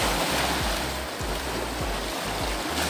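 Stormy sea surf rolling onto a beach at a resort, a steady wash of breaking waves with repeated low rumbling surges and wind buffeting the microphone, with no talk.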